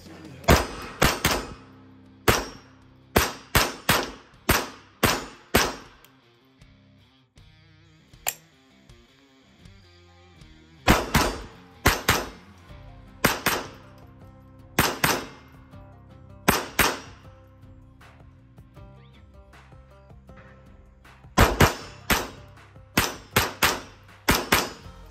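Grand Power K22 X-Trim .22 pistol fired at steel targets on a range, sharp shots in quick strings with bright metallic rings, a pause mid-sequence, then more rapid bursts, loud and close.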